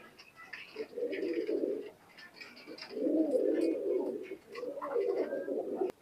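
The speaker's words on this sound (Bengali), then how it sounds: "এটা সেই ট্যাগ করানো কবুতর।" Pakistani high flyer pigeons cooing inside a loft, several low throaty coos in three long rolling bouts, close by, with faint bird chirps and rustling in the background and no talk.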